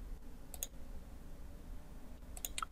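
A computer mouse is clicked in Inventor CAD software, with a few sharp, close, faint clicks, single and paired, over a quiet background.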